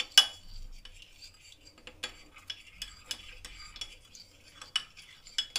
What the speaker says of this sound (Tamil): தண்ணி விட்டு அதை மிக்ஸ் பண்ணிடலாம். கட்டி இல்லாமல் மிக்ஸ் பண்ணிக்கோங்க.